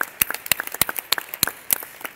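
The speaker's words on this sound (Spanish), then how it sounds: "yo creo que este vídeo se merece un aplauso" Audience applause at a community pharmacy forum, a short burst of sharp, uneven hand claps from a modest crowd, close and moderately loud.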